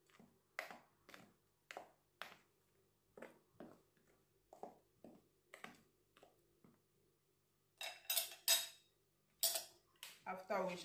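Flour and a little salt being mixed in a bowl for meat pie dough, a series of quiet, evenly spaced taps and scrapes from a utensil, turning into louder, quicker clinks toward the end.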